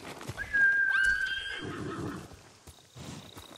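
In the Ghost of Tsushima video game, a horse gives one clear, rising-and-falling whinny near the start, followed by softer hoof clops and rustling that fade toward the end.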